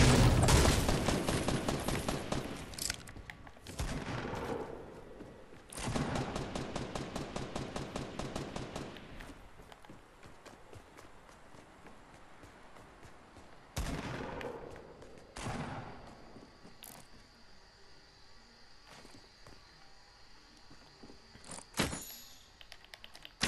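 Rapid crossbow firing in Fortnite, loud dense bursts of repeated shots in several clusters with pauses between, alone without talk.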